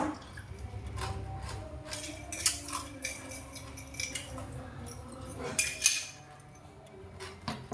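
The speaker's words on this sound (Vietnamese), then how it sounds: "Chấm muỗng vô" Spoon dipping into a glass of Vietnamese iced milk coffee and stirring, with faint clinks of metal against ice and glass, soft and close, under light background noise.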